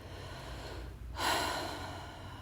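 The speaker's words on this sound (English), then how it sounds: "just doing some breathing exercises, some breath of fire" A single sharp breath-of-fire exhale during yoga breathing practice bursts out near the mic midway, a forceful nasal push of air that tails off into quiet breathing, with no talk.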